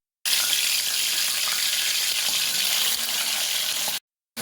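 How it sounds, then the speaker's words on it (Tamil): Chicken frying in oil for biryani, a loud, even hiss of sizzling that starts abruptly, holds steady for several seconds, then cuts off. "பொரியுது"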